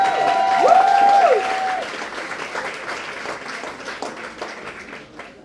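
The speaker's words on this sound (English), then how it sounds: "Come on guys, round of applause, come on." An audience at a community event honoring friendship and service breaks into a loud, dense round of applause that gradually thins and fades over several seconds, with a sustained tonal whistle or feedback squeal near the start.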